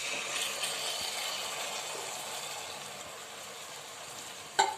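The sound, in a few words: fenugreek seeds added to frying masala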